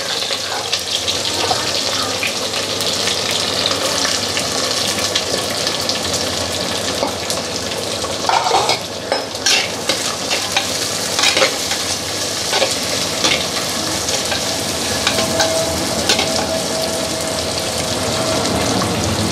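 Onions fry in a pan with a loud, continuous sizzle and frequent stirring scrapes, steady from start to finish with no talk.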